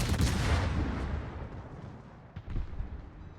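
The battleship Missouri's big guns open fire in a naval warfare game, giving one massive rumbling blast that slowly decays, then a couple of lighter distant thumps toward the end.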